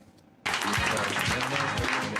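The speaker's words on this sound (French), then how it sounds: "Sous les applaudissements et à distance, Joe Biden est officiellement le candidat du Parti démocrate." Applause at the Democratic Party convention as Joe Biden becomes the official nominee, breaking in abruptly after a quiet moment and holding as a steady dense clatter, with faint voices underneath.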